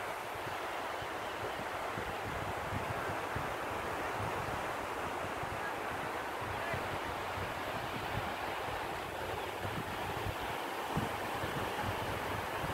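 Gentle sea waves wash softly onto the beach at Guilakhali with a rising tide, a steady, even rush of surf and wind filling the whole stretch with no voices.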